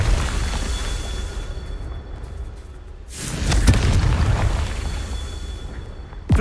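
A Confringo fire blast in Hogwarts Legacy lands with a loud booming burst, a sharp crack followed by a rumbling roar that slowly fades, set against steady game ambience with no talking.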